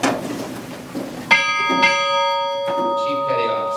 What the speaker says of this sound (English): Bell ringer, strike 2 bells.